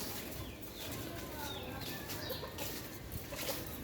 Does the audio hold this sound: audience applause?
no